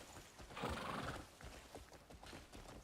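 A horse whinnies loudly near the start, followed by rhythmic clip-clop hoofbeats galloping steadily, with a game-like mix from Crimson Desert and no speech.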